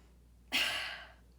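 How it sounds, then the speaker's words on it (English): A single forceful huff, a hard exhalation done as a breathing exercise in a cardiopulmonary lab, starts abruptly and trails off over under a second, close and on its own. "when they blow it, they're going to make a noise, kind of like a huff"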